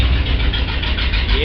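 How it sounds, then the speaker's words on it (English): A 1965 Ford F250 engine runs steadily in a closed garage, a loud close rumble throughout the clip, while someone talks over it. "The engine's working pretty well."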